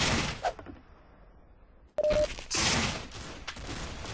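Gunfire volley from soldiers in a video game: a sharp loud burst of shots, then a sustained crackle of fire that lasts several seconds, coming after an earlier brief shot and a quiet lull.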